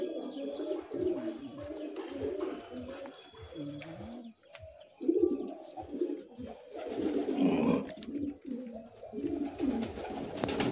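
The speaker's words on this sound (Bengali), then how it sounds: "এটা আমার ব্রিডিং লফট, এখানে আমার সমস্ত পায়রা ব্রিড করে, বাচ্চা হয়" Pigeons in a breeding loft cooing continuously, many overlapping throaty coos and some chirps close by, with occasional wing flutters and rustling.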